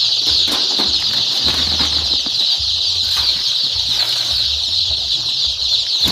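Layer chicks near a feeder on a farm fill the air with constant high peeping and soft clucks, with light flapping and shuffling underneath, steady and close.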